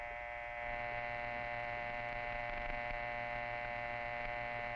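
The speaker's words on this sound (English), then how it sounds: "That's the dial tone." A steady, unbroken electronic hum drones on at an even level throughout, a 1949 telephone dial tone with no other sounds.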